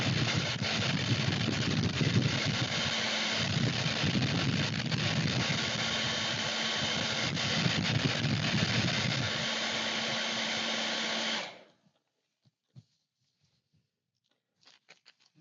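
A hair dryer blows hot air onto masking tape, a loud, steady whooshing hum close by that runs for about eleven seconds, then cuts off, leaving near silence with a few small clicks.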